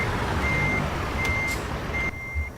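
A truck reversing in American Truck Simulator, sounding a steady high beep that repeats at a slow, even interval over a loud, constant engine drone, with a brief hiss near the end.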